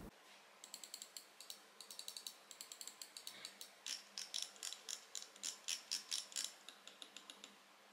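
Quiet, close clicks from a 3D-printed LuceOut Overlight gaming mouse with KL8 switches come in quick bursts, a steady string of small sharp ticks with short gaps.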